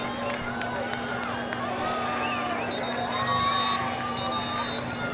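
A crowd cheers steadily through a boys' varsity high school football game between Redondo Union and North Torrance. The roar is continuous and broad, with scattered shouts and whistles, and talk carries on underneath.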